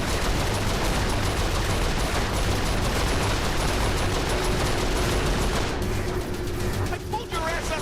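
Rapid turret gunfire from Saints Row IV pounds steadily for most of the stretch, dense and loud, thinning near the end as a voice talks over it.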